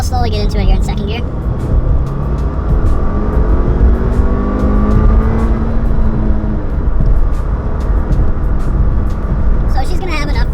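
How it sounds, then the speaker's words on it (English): Inside a 2017 Subaru Impreza hatchback with a manual gearbox, the boxer engine accelerates in second gear, its rumbling drone rising steadily in pitch while a voice talks over it. "It's pretty much all you hear is boxer rumble, and it's a very nice sensation"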